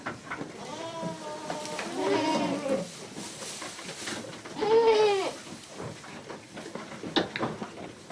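Goats in a goat barn bleat in loud, wavering calls, one around two seconds and a stronger one near five seconds, with softer animal shuffling and rustling between them.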